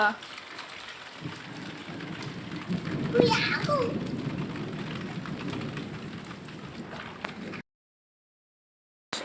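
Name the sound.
rain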